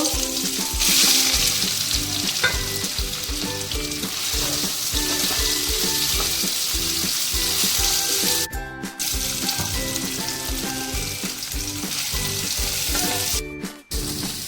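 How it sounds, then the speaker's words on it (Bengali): Food sizzles hard in mustard oil with turmeric in a frying pan, a loud, continuous crackle with stirring scrapes, alone without talk. "যে ফ্রাই প্যানে তেল দিয়েছি সর্ষের তেল"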